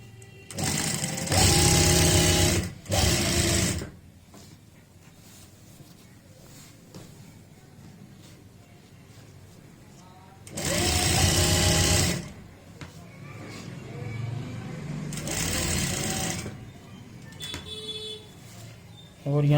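A sewing machine stitching a ready-made belt onto a saree, running in three loud close bursts of rapid stitching separated by pauses of handling sounds, with a little faint speech between runs.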